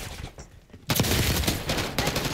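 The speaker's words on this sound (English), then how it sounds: "They have a fully auto pistol." Fully automatic pistol firing in an online shooter game, a sudden rapid burst of loud shots that starts abruptly after a quieter moment and continues briefly.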